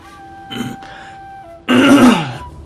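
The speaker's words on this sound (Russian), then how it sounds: "Так, извиняюсь за кашель." A person clears their throat in two short rasps, then lets out a louder, rougher cough, close to the microphone against a quiet background.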